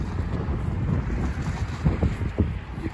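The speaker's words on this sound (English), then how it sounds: "we're right by the road and there's a lot of wind today" Wind blows hard beside a road, a continuous low rumbling roar buffeting the microphone, with gusty surges and a few louder thumps, no voices.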